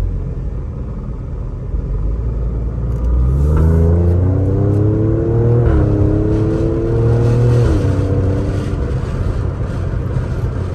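An Alfa Romeo drives a narrow, twisty hill country road, its engine rumbling steadily up close with rising and falling revs as it accelerates and eases through bends. No talking.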